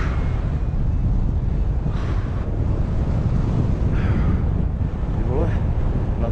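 Wind blows hard at a paragliding site, a loud, constant rushing buffet across the microphone, with faint voices in the background.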